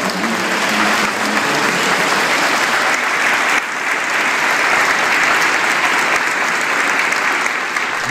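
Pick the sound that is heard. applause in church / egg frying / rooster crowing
applause in church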